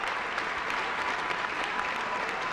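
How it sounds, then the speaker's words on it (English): Steady, dense applause from fans in a college gym as a senior basketball player leaves the game for the last time; a continuous wash of clapping throughout. "Gets a good round of applause from the fans."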